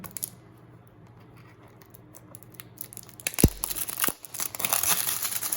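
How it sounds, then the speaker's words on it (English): Plastic wrap is cut and peeled off the box of a LILYGO T-Watch 2020 V3. Quiet crinkling and small ticks build into louder rustling and tearing near the end, close by, with no voices. "So I'm just gonna gently cut the plastic off here if I can."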